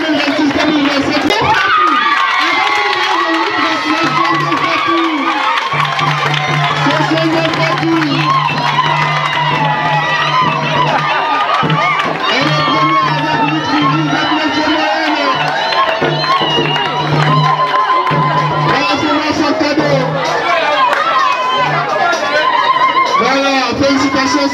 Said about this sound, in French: On applaudit très fort pour la 5 première du CP2.